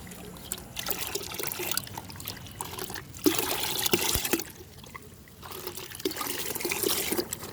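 Bio fertilizer is stirred into a bucket holding ten liters of water, with sloshing, trickling and splashing up close. The swirls come in uneven bursts, with a short, quieter pause midway.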